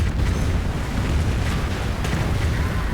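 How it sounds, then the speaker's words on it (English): A Calliope rocket artillery barrage crashes down in a World War II strategy game, a dense, loud, continuous rumble of overlapping explosions with no gaps and no voices. "looks like another Calliope barrage flying through the air"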